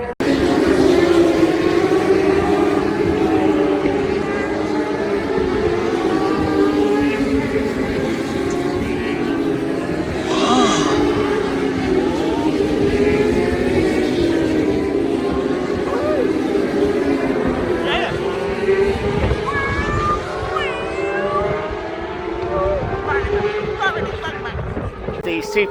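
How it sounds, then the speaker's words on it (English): Kawasaki superstock race motorcycles from British Superbikes at Donington Park blast out of a corner, a loud, continuous engine roar with rising revving sweeps from several bikes, close by, with excited spectator shouts over the din. "The super stock, that's Kawasaki. Wow, bam, bam, banging out the corner."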